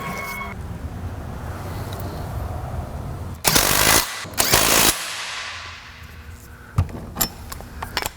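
Rapid mechanical bursts at close range, likely from a ratchet or impact-style socket tool during final assembly of a Ford Fairmont, come in two loud runs mid-clip and shorter rattles later, over a low hum of background noise.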